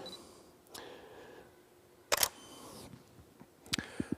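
An SLR camera shutter fires at a 30th of a second: a sharp close click-clack burst near the middle, then quicker mechanical clicks toward the end, in a quiet room.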